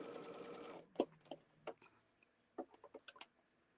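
A sewing machine stitching quilt blocks runs in a quick whirring burst, then stops, followed by a few faint ticks and clicks; quiet and close.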